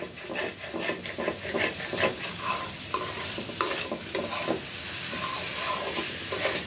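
Potatoes and pointed gourd sauté in a pan and are stirred continuously, giving close, rhythmic scraping and rubbing strokes over a constant sizzle, with no voices.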